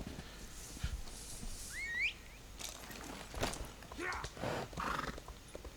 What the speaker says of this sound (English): So now if we jump back on our horse and get out of here.